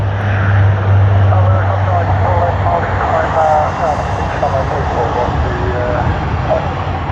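An aircraft departs at Sydney Airport, its engines producing a loud, sustained roar that swells and fades slightly over several seconds, heard from a distance with a low hum and some voice-like sound underneath.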